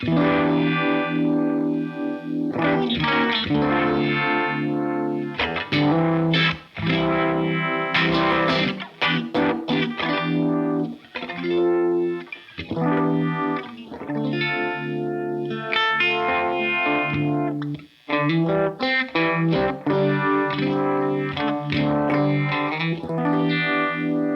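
Fuzzy, distorted electric guitar through a Keeley Monterey Rotary Fuzz Vibe pedal, depth at maximum and rate low, giving a slow swirling, wobbling modulation, chords and riffs played continuously without any talking.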